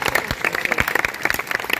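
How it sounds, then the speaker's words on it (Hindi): Audience applause at a Teacher's Day celebration in a Haryana school hall, a dense, steady patter of many hands clapping close by for the whole stretch. "इसके लिए भी जोरदार तालियां हुई।"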